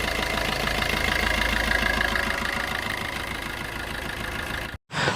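A 2019 Maruti Suzuki S-Cross diesel engine runs at a steady idle, a continuous close rumble with a brief cutout near the end before it resumes.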